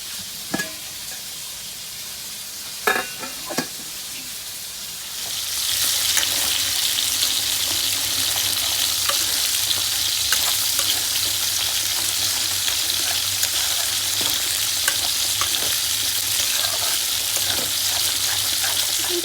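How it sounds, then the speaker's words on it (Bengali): Chicken mince sizzles in a pan with onion and ginger, a steady loud frying hiss that starts after about five seconds, with a few clinks and stirring knocks early on and no talk. "রান্না করছি হলুদ আর লঙ্কা ছাড়া চিকেন কিমা প্রথমে পেঁয়াজ আদা ভেসে নিয়ে ভেজে নিয়েছি"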